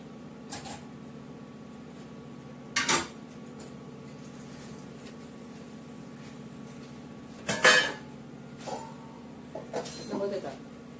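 A lid clanks down onto a pot of food set to boil in water, with two or three sharp metallic clatters standing out over a low, steady kitchen hum.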